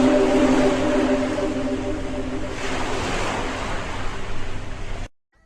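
Ocean waves wash steadily on the Caribbean Sea, a continuous broad surf roar with low steady hum and wind buffeting the microphone, loud throughout before cutting off abruptly near the end.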